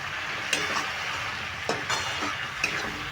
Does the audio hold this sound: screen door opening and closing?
no